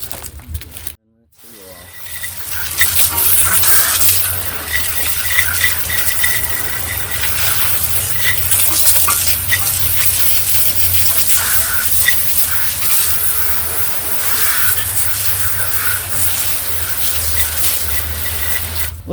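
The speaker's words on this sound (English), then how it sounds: "we can go ahead and just rinse the wheel off" Water spray rinsing a dirty car wheel during cleaning, a steady broad hissing gush that runs continuously and loud after a brief pause near the start, with faint speech underneath.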